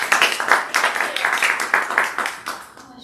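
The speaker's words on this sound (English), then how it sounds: "So give her a round of applause." A small audience at a morning Rotary Club meeting claps for a guest speaker, a short burst of close, fairly light applause that fades out after a few seconds.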